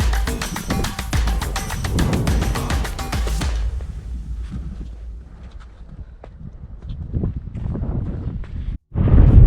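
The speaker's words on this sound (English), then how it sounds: "So the wind's picking up." Gusty wind on an exposed slope of Mt Adams, a low rumbling roar buffeting the microphone throughout, loudest in the opening seconds, then easing into a steadier, softer blow before a brief cut and a strong gust returning.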